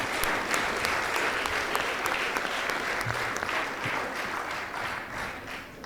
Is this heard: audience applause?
yes